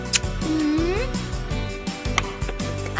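A pet cat meows once in a home, a short rising call heard over steady background music and household sounds.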